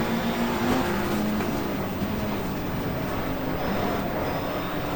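British touring cars from 1987 race at Oulton Park, a dense, continuous engine roar with pitch rising and falling as cars accelerate and jostle into a corner, loud and steady for the whole stretch.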